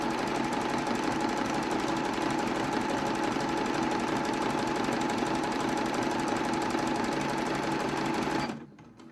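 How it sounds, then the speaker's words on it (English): A sewing machine runs fast and steady down a jersey top seam, a close, continuous rattling whir that stops abruptly near the end. "lift up the presser foot on the machine, and we're going to pop it back down again and come down this seam."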